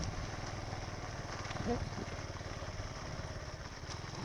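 A motorcycle rumbles steadily along a rough mountain road among pine trees, a close, low engine drone with small jolts, fairly faint with a voice heard briefly.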